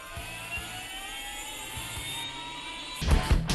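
A helicopter lifting off in a mixed reality video game set in a home: a rising turbine whine with rhythmic rotor thumps, building steadily and surging louder near the end.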